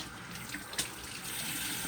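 Hot water running from a bathroom tap into a sink: steady, close splashing stream with a brief louder splash near the middle, continuous and fairly quiet, no talk.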